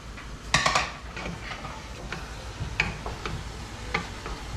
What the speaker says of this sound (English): And I'm going to mix that all up.